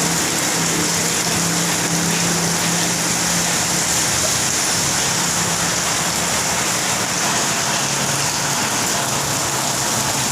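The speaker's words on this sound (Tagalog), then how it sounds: "malakas po ang ulan ngayon dito sa amin sa Laguna" Heavy rain pouring steadily in Laguna, Philippines, a dense, loud hiss of water that stays constant throughout with no voices.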